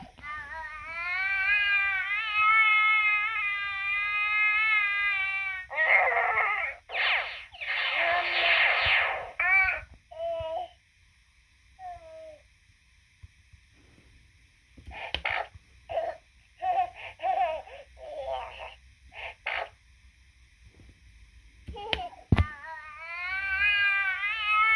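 A Disney Pixar Baby Jack-Jack toy from The Incredibles 2, 13 inches, pressed on the tummy to play electronic baby noises: wailing, cat-like cries and babbling bursts, with short gaps and a final cry, loud and close, no talk.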